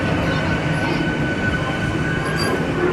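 Narasapur to Guntur passenger train running, a steady close rumble of wagons and rails with faint high squeal, continuous and unbroken for the whole stretch with no talk.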